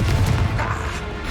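A Confringo fire spell goes off in Hogwarts Legacy as a loud, close burst with a heavy low boom at the start that fades into a rushing, crackling tail within about a second.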